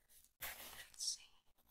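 A colored pencil scratches on the paper of a coloring book in short, soft strokes, close and quiet, with a brief whisper-like hiss.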